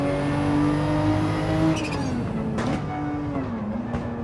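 A tuned race car in a racing video game at Deep Forest, its engine whining at high revs, then shifting and dipping, with brief tire and impact noises over a constant drone.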